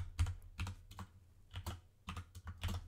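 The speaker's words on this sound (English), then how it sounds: "we can type in a expression such as a" Typing on a computer keyboard while entering an expression in the MATLAB command window, clustered bursts of close, crisp key clicks with short pauses between groups, no speech.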